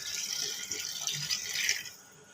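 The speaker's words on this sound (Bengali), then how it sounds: "একটু গরম পানি দিয়ে দেব।" Hot water pours into a pressure cooker holding Peshawari-style beef, a steady close splash running for about two seconds before trailing off into quiet.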